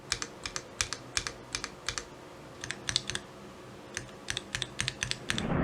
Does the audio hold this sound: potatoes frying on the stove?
no